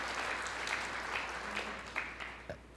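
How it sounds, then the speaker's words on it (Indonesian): A church congregation claps steadily through a sermon, a dense, even wash of applause heard from some distance and held at a moderate level. "Berikan tepuk tangan yang meriah buat Tuhan."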